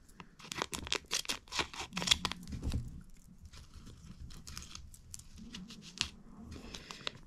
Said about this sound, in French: je vais découper des bandes